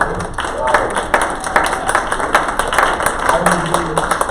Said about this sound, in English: So congratulations and a round of applause to Natalie